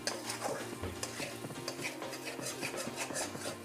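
A spoon stirs raw masala paste in a pan, scraping and clinking in a steady rhythm over a soft background sizzle, close and alone with no talk.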